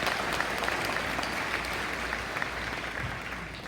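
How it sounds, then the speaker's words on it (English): A graduation ceremony audience gives a sustained round of applause, dense steady clapping from a large crowd filling the hall at an even level throughout. "Let's introduce, give them a round of applause."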